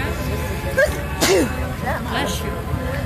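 A single sharp sneeze bursts out among chatting voices in a crowd watching an antique car parade at the Oxford, Maine fair in 2016, with talk continuing around it.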